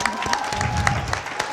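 Audience applause for work on preventing election violence, a steady wash of clapping at moderate level, brief and continuous throughout.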